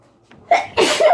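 A single close, sharp sneeze with a brief breathy intake just before it.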